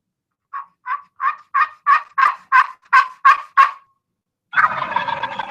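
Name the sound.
turkey gobbling in answer to a turkey call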